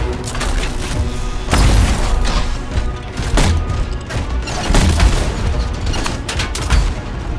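A gun that launches grenades goes off in Anthem, with dense, continuous blasts and crashes layered together for several seconds, loud and close with no talk.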